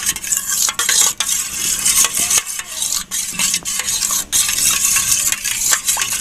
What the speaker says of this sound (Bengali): সেজন্য ফেটিয়ে নেব একসাথে